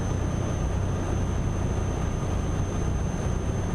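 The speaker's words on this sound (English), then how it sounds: "It's grrr sound of the engine." A heavy truck engine in Euro Truck Simulator 2 rumbles steadily and loudly at close range, with a constant low drone and a faint high whine running through it.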